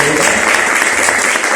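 A church congregation claps in sustained, dense applause, loud and close, with voices mixed into the steady clapping throughout.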